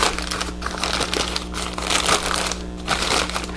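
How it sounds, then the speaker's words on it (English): A plastic splash bag is pulled down around an Electro Arc Model 2-SAC machine, giving close, loud crinkling and rustling in uneven bursts. "I can pull my splash bag down"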